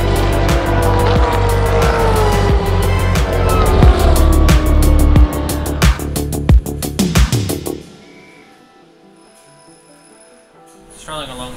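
Supercars race cars run side by side through turn 7 at Sydney Supernight, a loud, dense engine roar with sharp rhythmic pulses, fading to a quieter stretch before another car approaches near the end; commentary talk runs over it.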